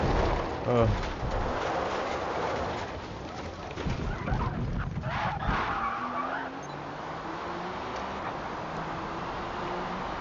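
A Porsche 911 GT1 Strassenversion in Forza Motorsport brakes too late and skids, with a loud tire squeal and scrubbing noise over the engine, then the engine drones on more quietly with shifting pitch.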